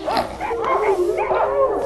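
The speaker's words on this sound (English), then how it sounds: "The wise men brought in dogs, big dogs, little dogs, white dogs, and spotted dogs." Dogs bark and yip in a quick, excited run of several overlapping barks, close and fairly loud, with no talking over them.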